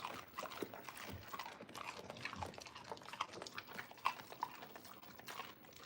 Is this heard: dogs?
yes